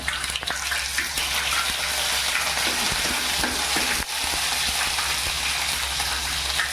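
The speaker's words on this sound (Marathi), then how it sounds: "तेल गरम झालंय लसूण टाकते" Garlic sizzling and frying in hot oil in a pan for a Koli-style stingray fish curry, a steady close broadband crackle with occasional stirring clicks and no talk.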